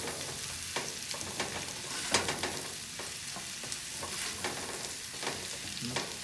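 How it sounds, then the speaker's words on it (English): Salt and pepper shrimp are stirred in a hot pan, a close, steady sizzle broken by repeated scraping strokes of the utensil. "So I'm gonna mix it again."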